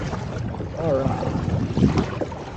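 Wind blowing across the Tennessee River during a kayak fishing trip, a steady rushing buffet on the microphone with a faint voice murmuring beneath it.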